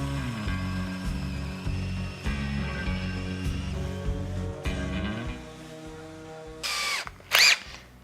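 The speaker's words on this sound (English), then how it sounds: "Now for one of these boards, you need a 7/8 inch bit, and you're going to be drilling all the way through" A power drill fitted with a 7/8 inch bit bores all the way through a wood board, its motor holding a steady, loud whine with a pulsing low rumble, rising briefly into a sharper burst near the end.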